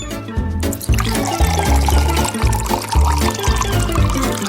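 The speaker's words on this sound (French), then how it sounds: "je vais mettre de l'eau bouillante" Boiling water poured from a kettle onto instant noodles in a kitchen, a loud continuous splashing pour with gurgling, close by and uninterrupted.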